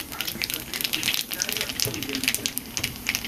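Black cumin seeds crackle and spit in hot oil as a red amaranth greens dish is started, a steady sizzle dotted with sharp little pops, with a voice faintly audible underneath.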